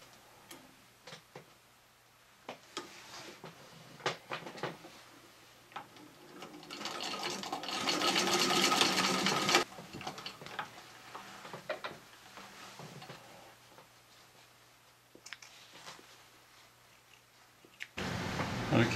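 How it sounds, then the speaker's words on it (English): A Singer Model 15-91 sewing machine stitches a patchwork flat cap's crown piece, with rapid mechanical ticking bursts separated by pauses and a louder sustained run in the middle, close and without talk. "Okay, I'm going to sew up the crown piece here."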